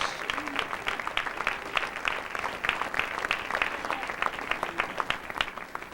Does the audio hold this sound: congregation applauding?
yes